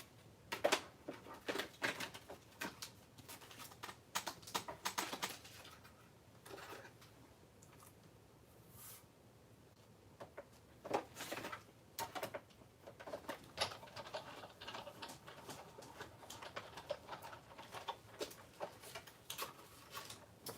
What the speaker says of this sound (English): I'm gonna cut another piece of paper